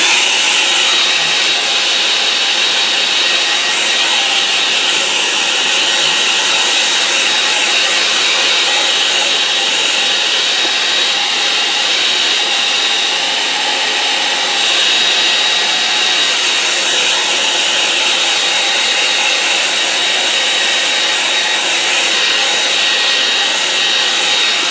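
A hair dryer blows steadily on a watercolour painting of a sky over a lake, a loud, unbroken hissing whine with a constant pitch, close by and running alone for the whole stretch.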